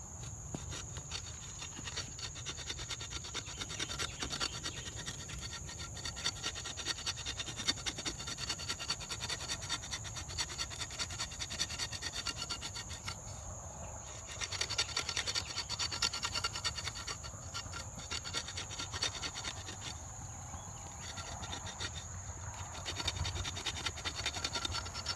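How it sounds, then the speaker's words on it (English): Serrated spine of a Fox 602 Israeli Tracker knife scraping a piece of cypress wood outdoors: a continuous close rasping, scratching texture in repeated strokes, with a steady high insect drone in the background. "Got a piece of cypress to see how they scrape."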